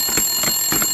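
A phone rings in a toy doll play scene, a short run of rapid electronic beeping tones pulsing in quick bursts, loud and close over a faint high steady whine.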